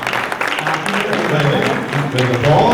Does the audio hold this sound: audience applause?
yes